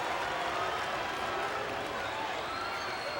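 A capacity wrestling crowd in a Rockford arena roars steadily throughout, a dense wash of cheering and applause cheering on George the Animal Steele, loud and continuous with no clear gaps.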